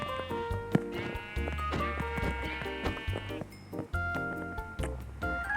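Repeated sheep bleats in the Minecraft video game come over steady game music, fairly quiet and scattered through the stretch, with no speech.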